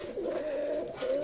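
Pigeons kept for sale in a village coo softly in a continuous low warble, faint and alone, with no talk over them.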